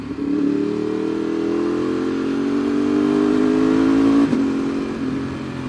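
A Ducati 848 Evo sport motorcycle's engine holds a loud, close rev that climbs steadily in pitch, then breaks off briefly before settling back to a rough idle, with no voices.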